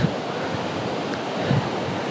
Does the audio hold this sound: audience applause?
no